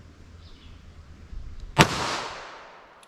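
A single sharp, loud gunshot from a .22 Magnum revolver with a 3-inch barrel, fired outdoors, its crack followed by a rolling echo that fades over about a second.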